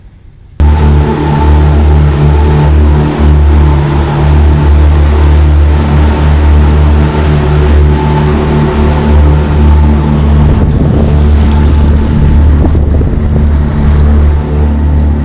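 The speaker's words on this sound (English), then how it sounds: "So let's start the engines up and we'll head off." Boat engines on a sailing yacht fire up and settle into a loud, steady, close drone on a calm, grey day. The low hum continues with minor shifts in pitch and no talk.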